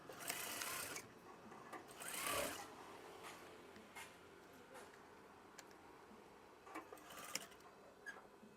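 A sewing machine stitches lace onto a curtain swag in a steady mechanical whir, with short bursts and pauses between runs, close and moderately loud with no talking.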